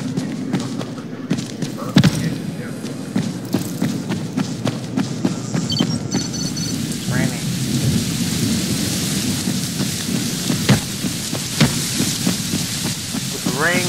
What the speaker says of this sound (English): With rain going on